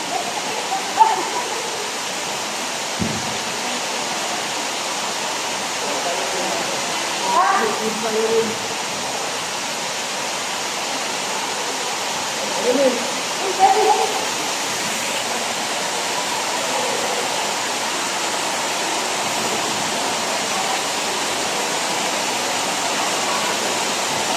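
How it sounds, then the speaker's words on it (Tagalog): Waterfall at Desert Falls water park in Qatar, a steady broadband rush of falling water filling the whole stretch, with a few faint voices and brief knocks over it. "So yeah guys, officially we are inside the Desert Falls."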